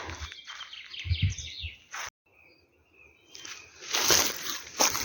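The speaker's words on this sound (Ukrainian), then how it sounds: "Як співають, чуєте пташечки?" Birds chirp and twitter in the background of a forest, faint at first, then brighter and busier, mixed with rustling and footstep-like noises.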